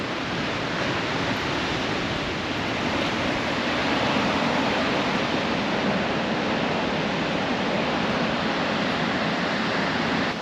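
Surf rolls in steadily along a long open Australian beach, a loud, continuous wash of breaking waves with no pauses and no voices.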